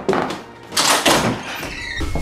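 A locked interior door being forced open in a house, heard as a series of loud thuds and bangs spread over about two seconds, with rattling and a few scraping knocks at close range and no voices.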